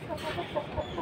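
A hen gives a short run of soft, repeated clucks in quick rhythm, fairly faint and close, with no talking.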